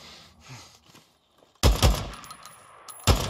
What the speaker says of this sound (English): Damn it, sniper ambush.